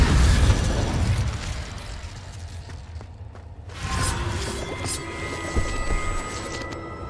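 A fire spell blasts in the video game Hogwarts Legacy: loud booming bursts and crackling pops in a cave, fading mid-clip before another rumbling burst with scattered pops and ringing tones.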